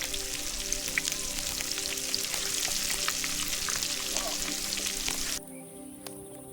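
Carp fillets fry in a pan in a Danube Delta camp kitchen, a dense, continuous crackling sizzle with scattered pops that cuts off abruptly near the end, leaving a quiet background.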